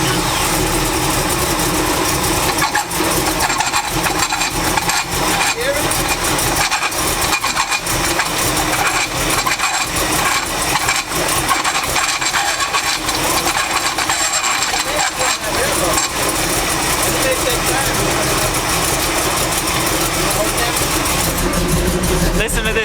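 Chevrolet C10 truck engine running after a power steering repair, a steady loud mechanical drone that holds for the whole stretch with faint voices mixed underneath.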